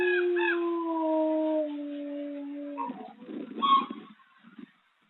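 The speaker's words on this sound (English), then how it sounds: "It's not howling in a defensive way." A wolf at a wolf care sanctuary gives a long, clear, wavering howl that slowly falls in pitch over about three seconds, followed by softer rustling and a few faint yips and whimpers.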